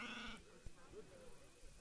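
A sheep bleats in the real-time strategy game Age of Empires 3, one short wavering bleat at the start, followed by low chatter and game noise in the background.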